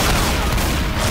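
A grenade detonates in a zombie shooter game as a sudden, loud, dense boom that fills the whole brief moment with rumbling blast noise.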